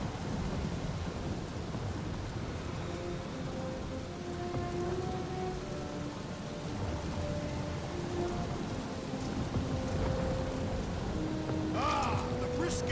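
Steady rain and rumbling thunder fill a stormy scene in the Guardians of the Galaxy video game, a continuous dense downpour with deep rolls underneath and faint tonal music.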